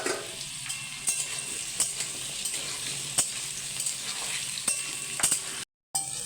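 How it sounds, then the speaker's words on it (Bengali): Papaya and potato pieces frying in a pan give a steady, close sizzle with occasional stirring clicks and scrapes, briefly cut off near the end. "পেঁপে আলু সব ভালো করে ভাজা হয়ে গেছে"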